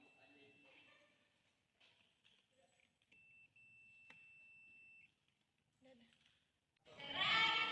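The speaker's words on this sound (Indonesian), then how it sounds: "Jika kabel tersambung ke terminal blok, buzzer akan berbunyi" A continuity tester's steady electronic buzzer tone sounds for about two seconds as a wire connects to a terminal block, amid quiet speech, followed by a louder burst of noise at the end.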